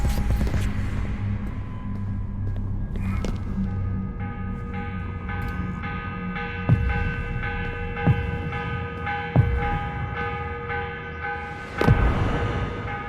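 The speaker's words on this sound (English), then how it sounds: "The morning bell." A church bell tolls at dawn in the video game Assassin's Creed: Revelations, with repeated strikes whose ringing overtones hang and overlap beneath a steady low hum.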